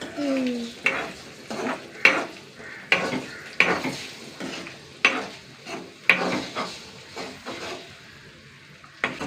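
Eggs are fried and stirred in a pan. A soft sizzle runs under regular, sharp scraping knocks of a utensil against the pan, roughly one each second, with no talk.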